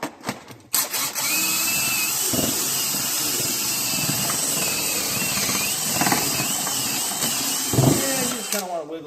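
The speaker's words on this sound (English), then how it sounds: "I'm going to drill a hole straight down and get it into my little pocket I have there." A power drill bores a hole straight down during a stairwell service call, whining steadily at close range for several seconds, with brief louder surges as the bit is worked.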